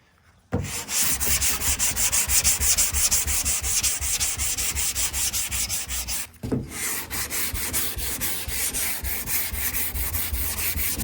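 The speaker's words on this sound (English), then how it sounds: "Time to block sand." A sanding block works body filler on the quarter panel of a Jeep Grand Wagoneer, producing a loud, continuous gritty scraping that starts abruptly, briefly drops out partway through and then carries on with steady back-and-forth strokes.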